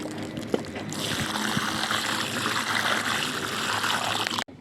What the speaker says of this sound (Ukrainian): І так ось поливаємо водичку.